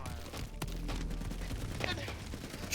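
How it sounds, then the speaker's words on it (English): Video game gunfire during an assault, bursts of shots cracking out over a rumbling low backdrop, with a loud sharp shot early and scattered reports continuing throughout. "You'll begin to hear the sound of gunfire."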